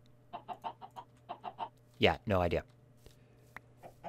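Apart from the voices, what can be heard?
chickens clucking in Minecraft modpack video game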